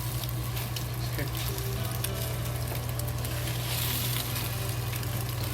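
Eggs frying with scallions in a hot pan, a loud continuous sizzle with light crackle throughout and faint stirring scrapes, no voices.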